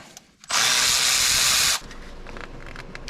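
Power tool whirring steadily for about a second, loosening bolts from the valve cover of a 2006 Ford Ranger during a tune-up. The sound is loud and close, starts abruptly and cuts off, with quieter workshop noise before and after.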